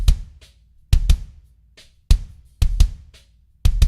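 A kick drum layered with Yosh Drum Warehouse Legacy samples thumps in a loose pattern of punchy, bright-edged hits with short decaying tails, close and loud with nothing else around it.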